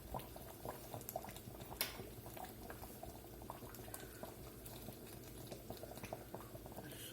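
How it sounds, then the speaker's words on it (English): Smothered pork chops simmer in a pot of sauce, a faint, steady bubbling with soft pops and patter throughout, no talking. "The chops been simmering there about 45 minutes."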